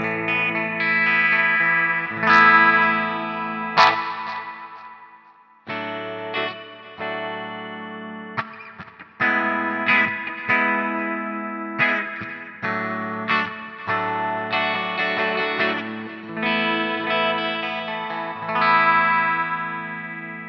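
Distorted electric guitar chords ring through the digital delay setting of a Flamma FG200 multi-effect unit. Crisp repeats trail after each strummed phrase, played alone across a long stretch.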